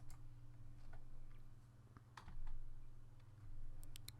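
Typing the hostname command on a computer keyboard, a short run of quiet, sparse key clicks over a low steady hum with no voices.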